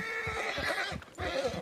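A horse whinnies loudly and close by in a town street, a shaky neighing call with a brief dip near the end, alone with no talk.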